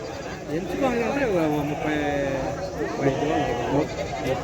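Sheep bleat in wavering, drawn-out cries at a weekly sheep and goat market in Cheluru, with voices talking over the calls throughout.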